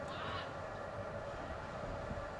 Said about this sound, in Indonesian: PSK 31, suara sinyalnya seperti itu. Ini kan udah kayak kereta api gitu suaranya.